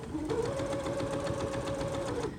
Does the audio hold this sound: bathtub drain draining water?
no